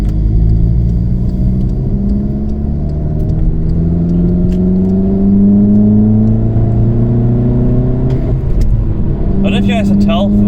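Interior engine drone of a VW Golf MK6 1.4 TSI turbo with a sports cat downpipe, loud and continuous as it accelerates, its pitch climbing and shifting through gears, with a voice briefly audible near the end.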